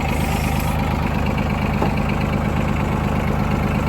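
Tractor engine idling on a mountainside field before tilling soil: a steady, loud, mid-low chugging drone with even knocking pulses that continues unchanged throughout, with no voices.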